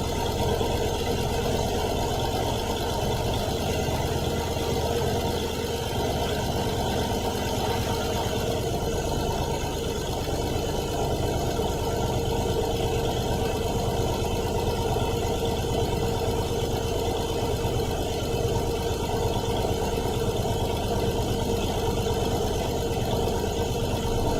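Steady rumbling idle of a 2014 Paccar MX-13 diesel truck engine with throbbing exhaust pulses and continuous vibration, close and loud, unchanging throughout.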